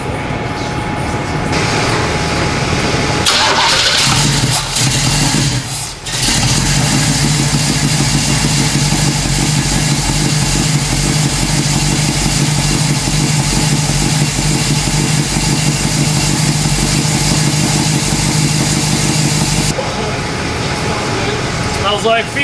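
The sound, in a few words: Oldsmobile 455 big block V8 engine starting and running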